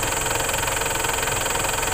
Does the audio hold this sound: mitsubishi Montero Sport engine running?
yes